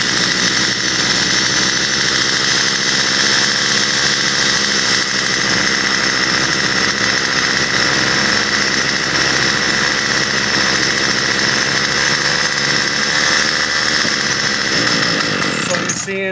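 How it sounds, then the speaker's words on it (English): A Troy-Bilt TB22EC string trimmer's small two-stroke engine runs loud and steady at a high, whining speed throughout while its carburetor idle screw is adjusted. "now we're going to work with the idle screw and make it idle,"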